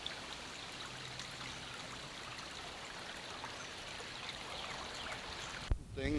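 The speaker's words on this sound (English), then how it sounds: "representative of the fact that there's a brook" A brook flowing down toward the Raritan River in a wooded New Jersey valley, a faint, steady broadband rush of water with no talk, ending in a short clunk.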